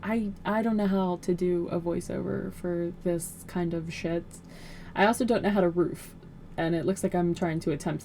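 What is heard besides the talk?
No everyday noise stands out behind the speech.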